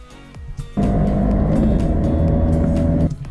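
Tuned Fiat 124 Spider Abarth accelerating hard on a wet road, its engine note jumping in loudly after a quieter opening and holding a steady, strained roar for over two seconds before easing off, with no talking.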